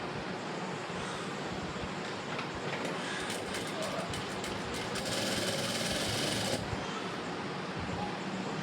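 A sewing machine runs steadily while stitching the shoulder seam of a blouse, its loud, continuous whirring rattle lasting throughout and rising briefly in intensity near the middle before easing back.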